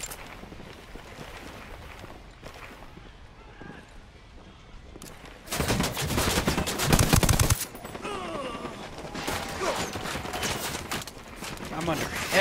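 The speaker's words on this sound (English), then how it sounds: "I'm under heavy fire, man." Heavy gunfire in a video game, distant shots early on and then a loud, dense close-range burst in the middle, with firing continuing afterward while a voice speaks over it.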